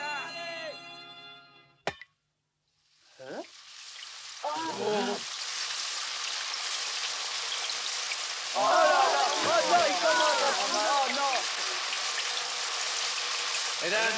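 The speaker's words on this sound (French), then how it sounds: "j'ai bien peur que cette pluie nous arrose jusqu'à la fin de ce match." Rain pours down steadily over a football match in a cartoon, a dense hissing wash that starts after a brief musical sting and a moment of silence, while voices talk over it.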